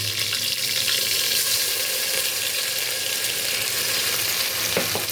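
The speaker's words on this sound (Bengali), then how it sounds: "পেঁয়াজ দিয়েছি তেলের মধ্যে একটু পেঁয়াজটা ভাজা ভাজা হয়ে গেলে মশলা দিয়ে দেব" Onions frying in oil in a cooking pot hiss and crackle continuously at a steady level, with a brief clatter near the end and no voices.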